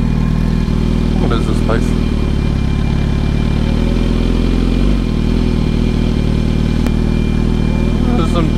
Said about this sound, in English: This is some dirt track drag racing.